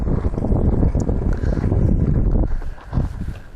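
Wind buffets a microphone at an RC flying field, a loud continuous low rumble with gusty swells that eases briefly near the end.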